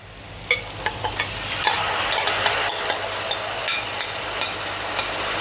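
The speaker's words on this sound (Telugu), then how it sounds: "ఈ పులుసు కూడా దీంట్లో వేసేద్దాం." Tamarind extract goes into a pan of cooking gongura leaves for Guntur-style pulihora gongura, followed by close stirring: a soft steady sizzle with a run of sharp spoon-on-pan taps, no talking.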